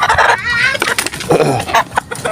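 Backyard chickens, including a red-faced rooster, cluck and call in a dense, close series of squawks and short clucks, loud and overlapping.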